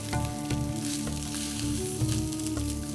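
Rice with toasted vermicelli frying in oil for an Egyptian pilaf, a continuous bright sizzle with soft rhythmic scraping as it is stirred, close and fairly even, without any talking.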